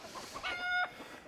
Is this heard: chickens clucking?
yes